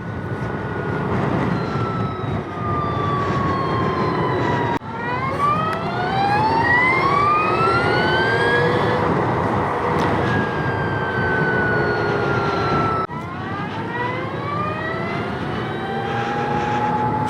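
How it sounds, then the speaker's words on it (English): An Energica Experia electric touring motorcycle whines under acceleration while riding, rising gliding tones that sweep upward over wind rush, reset with each gap in throttle, loud and continuous from on board with no talking. "I couldn't stand that whining noise that it makes"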